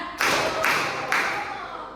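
A group claps in unison, three sharp, loud bursts spaced about half a second apart, as in a counted one-two-three clap pattern, each ringing out briefly before the next.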